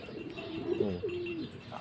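Pigeons coo in a loft, with a few soft, rolling coos close by over a steady low murmur of the flock.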